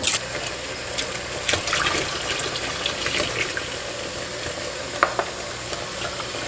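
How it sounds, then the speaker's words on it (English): Lukewarm water runs from a tap into a kitchen sink, filling it for washing fruits and vegetables: a steady, close, broadband splashing rush that continues unbroken without any talk. "you're going to want to fill up your sink with some lukewarm water"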